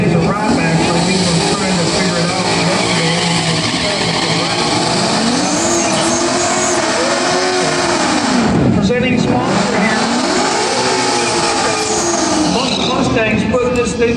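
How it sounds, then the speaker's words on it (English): A turquoise Ford Mustang with a 302 V8 runs at an all-female drag racing shootout final, its engine roaring loud and continuous with rising and falling revs beneath an announcer's commentary. "you've got Nikki Frost, that beautiful light blue, I'm going to call it turquoise, Mustang, the 302 under the hood"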